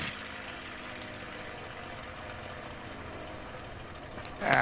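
A TF-51 Mustang aircraft engine idles steadily at about 1,000 RPM, a continuous rumbling drone with even vibration that holds level throughout before a louder burst at the very end.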